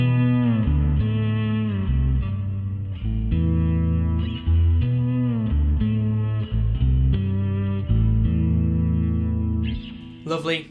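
Sustained, gliding notes from an Alembic 8-string fretless Series II bass with a smooth, singing tone, washed in reverb and chorus-like shimmer, playing steadily and loudly without pause.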